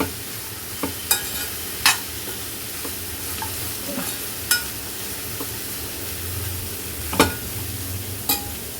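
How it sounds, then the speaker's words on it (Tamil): Grated coconut being stirred and sautéed in a pan for cassava adai, with a steady soft sizzle and occasional sharp scraping clicks of the spoon, close and alone. "தேங்காயெலாம் நம்ம வதக்கி போடுறோம்"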